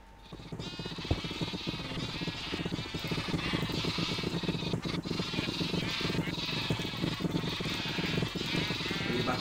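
A sheep in a block-building video game bleats repeatedly and loudly over a dense, continuous game soundscape, with some faint talk mixed in.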